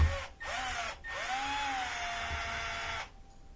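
A cordless drill or power screwdriver backs out small Phillips screws from a porch light bracket, whirring in two short bursts and then one longer steady run with rising and falling pitch, close and fairly loud, with no talking.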